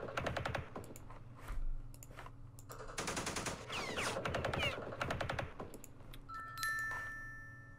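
Rapid machine-gun bursts and scattered shots in the Vietnam War strategy game Campaign Series Vietnam, with a village assault on a fleeing supply unit, loud and dense, coming in clustered volleys over several seconds.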